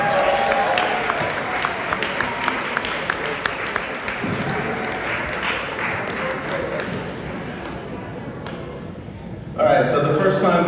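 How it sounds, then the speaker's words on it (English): A crowd at a school sports banquet applauds and cheers for the upper school men's basketball team, dense clapping mixed with voices and shouts, loud and continuous, swelling again near the end. "Give a round of applause to our upper school men's basketball team."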